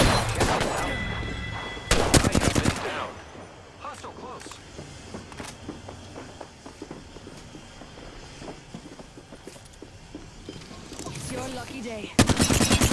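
Bursts of automatic gunfire in Apex Legends season 7, loud rattling volleys at the start and end with scattered shots and game sounds between, and a voice talking over parts of it.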